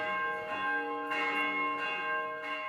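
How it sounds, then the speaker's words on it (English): Church bells ringing in Egypt, several resonant bell strokes overlapping with long ringing tones, clear and sustained, with no speech. "Church bells in Egypt ring with joy."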